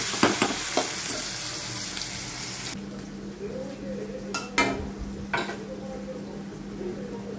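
Tomato chutney cooking in a pan on a home kitchen stove, an even sizzling bubble with a few sharp metal clinks of a spatula against the pan, close and steady.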